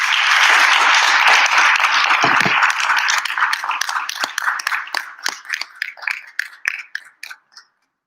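Dense audience applause at a Bharatanatyam arangetram fills the hall, steady and loud at first, then thinning into scattered individual claps that trail off to silence.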